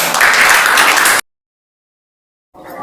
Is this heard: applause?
yes